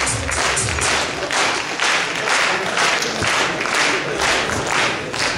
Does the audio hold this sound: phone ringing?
no